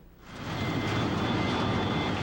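An airliner's jet engine roars, rising quickly to a loud, steady broadband rush that holds without pause.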